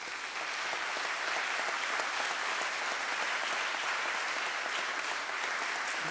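Sustained applause from an audience at a Waldensian synod, a dense, steady wash of clapping that stays loud and even throughout with no voices over it.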